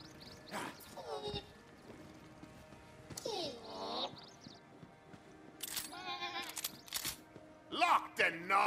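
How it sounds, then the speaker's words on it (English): Sheep bleats ring out in the video game Tiny Tina's Wonderlands, several wavering cries spread across the moment among character voices and game effects. "I thought you just turned him into a sheep."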